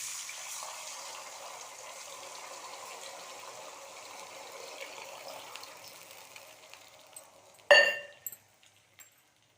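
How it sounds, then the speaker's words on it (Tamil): Measured water is poured into a pan for rice upma, a steady gushing flow that fades, then a sharp metallic clink of a tumbler against the pan and a few softer taps. "இப்போ இந்த தண்ணியை சேர்த்துடலாம் இதோட"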